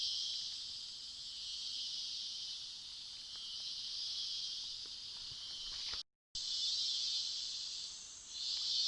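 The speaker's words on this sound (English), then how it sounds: "What you hear in the background are cicadas" A dense, steady high-pitched drone of cicadas in a rainforest fills the whole recording, continuous and loud, with one brief dropout near the end.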